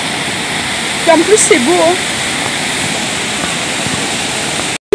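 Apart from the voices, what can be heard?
waterfall in Ireland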